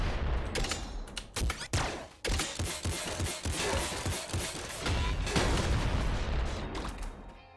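Rapid weapon fire in the top-down shooter Nuclear Throne, a dense run of sharp shots and heavier thumping blasts crowding together, loud and near, with brief gaps before the barrage resumes.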